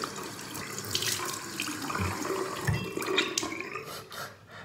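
Tap water runs steadily into a sink while someone washes their face, with splashing and shifting flow through the whole stretch and no talking.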